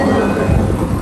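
A train pulling out of New Chitose Airport station in Hokkaido rumbles loudly from on board, a steady dense roar of wheels and motors with faint rhythmic clatter and no speech.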